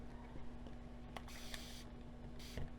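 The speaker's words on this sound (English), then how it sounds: "This is just a spray bottle full of water" A handheld spray bottle of water mists the inside of a painting canvas in two quick, faint bursts separated by a short pause, over a quiet background hum.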